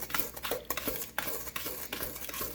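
Cake batter being stirred in a bowl with a utensil, giving a run of scraping, clinking strokes at close range with no voices.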